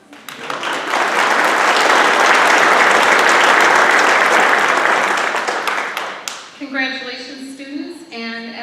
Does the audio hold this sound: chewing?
no